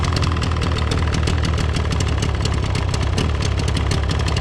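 An outboard motor on a Carolina Skiff boat idles steadily, a loud close continuous rumble with a fast regular knocking pulse and no break.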